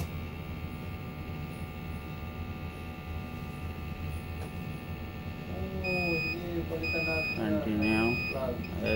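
An SLE 3600 INOSYS inhaled nitric oxide system sounds its calibration alarm as a series of short, evenly spaced electronic beeps over a steady background hum. The beeps begin late and repeat about three times.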